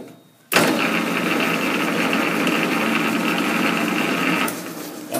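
A metal lathe runs steadily at slow speed while boring a new clutch hub, a close continuous mechanical hum and whir that starts abruptly and then eases off near the end.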